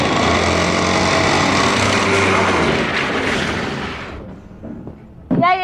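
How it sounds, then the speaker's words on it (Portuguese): An engine running rough and misfiring roars loud and constant for about four seconds, then winds down and cuts out, followed by a brief sharp sound at the end. "o motor tá rajando"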